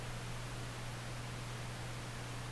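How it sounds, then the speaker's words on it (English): Steady broadband hiss from the tube microphone noise setting of a piano plugin, constant and fairly loud throughout with a low hum beneath, and no playing or talk. "Adds more white noise than we really need."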